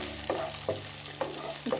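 Chopped onions sizzle and fry steadily in a hot pan over a medium gas flame, with a few scraping stirs of a spoon punctuating the continuous close crackle.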